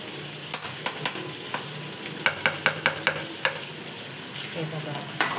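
Food frying in a pan, a soft continuous sizzle under a series of sharp clacks from a utensil stirring and tapping against the pan, irregular and close.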